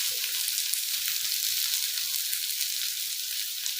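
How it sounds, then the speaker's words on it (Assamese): Boiled potatoes frying in a pan give a steady, close, loud sizzle throughout, with faint stirring underneath. "এইখিনি বইল কৰা আলু এয়া দিলোঁ। এতিয়া অকণমান ভাজি ল'ব।"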